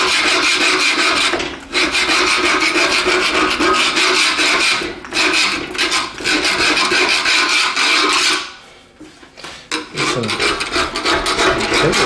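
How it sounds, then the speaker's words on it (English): Screwdriver worked back and forth scraping old gasket cement from a stove door's rope channel, a loud, continuous gritty rasping close up, broken by a few brief pauses. "I'm just working the screwdriver back and forth, side to side."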